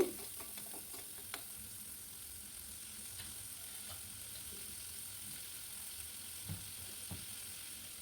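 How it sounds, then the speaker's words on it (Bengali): Carrots fry quietly in a pan with a soft, steady sizzle, broken by scattered light clicks and scrapes as they are stirred, with no voices. "প্রথমে দিয়ে দিচ্ছি গাজর গাজরকে কিছুক্ষণ বেজে নিচ্ছি"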